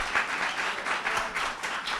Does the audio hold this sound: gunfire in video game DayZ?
no